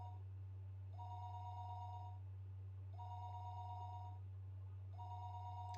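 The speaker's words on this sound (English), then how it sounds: "Her phone would be ringing constantly though" A telephone rings in the Higurashi When They Cry visual novel: three evenly spaced, roughly one-second electronic ring bursts over a steady low hum, moderately quiet with no voices.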